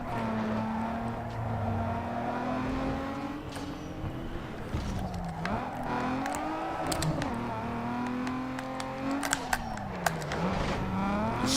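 A 2002 Acura NSX driving in Need for Speed Underground 2, its engine droning steadily and rising and falling in pitch through gear changes, loud and continuous with tire noise.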